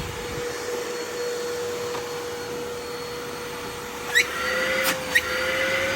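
An upright vacuum cleaner runs with its brush bar spinning, a steady close motor hum with a constant whine, a few brief knocks and a slight surge near the end, no talking.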